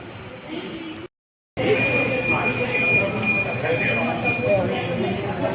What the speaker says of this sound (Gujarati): ચાલે છે મિત્રો મેટ્રો ટ્રેન અંડરગ્રાઉન્ડનો